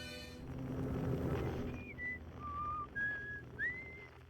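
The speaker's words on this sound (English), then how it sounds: "Somebody's whistling on this planet." Whistling drifts over windy ambience on a planet in the Outer Wilds game, a few short melodic phrases that slide up and down, fairly quiet and distant beneath the steady wind rush.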